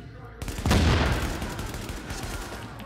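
Gunfire from the video game The Division crashes out as a loud burst with a long rumbling tail that fills the short clip.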